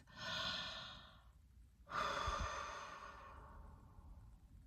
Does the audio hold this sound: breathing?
yes